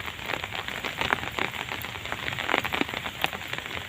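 Steady rain patters on a surface, with scattered louder drops tapping throughout and no talking.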